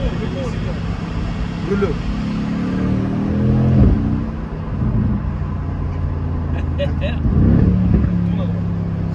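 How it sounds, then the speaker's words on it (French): A Mercedes-AMG GLC 63 S SUV engine revs and accelerates, climbing through the rev range in loud surging pulls with people talking over it. "monte dans les tours, accélère, accélère"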